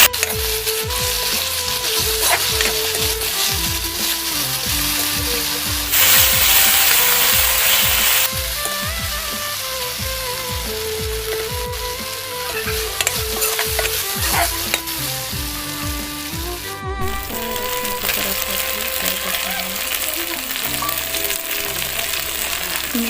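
Fish and elephant apple frying in a pan, a steady loud sizzle with stirring scrapes and clinks throughout, no talk, a hissing surge partway through.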